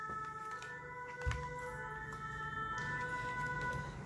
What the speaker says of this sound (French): ça fait quand même 2 fois que les pompiers passent